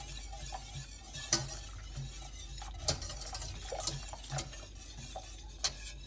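Whisk stirring lemon tart cream in a bowl, light scraping with scattered metallic clinks against the sides, steady and close with no voices.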